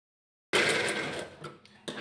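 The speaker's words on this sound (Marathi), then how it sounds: "आता बघा एक साईडने शिलाई टाकलेली आहे" A sewing machine runs a short burst of stitching along the side seam of a blouse piece, a close mechanical whir that starts abruptly, fades slightly, then picks up again briefly.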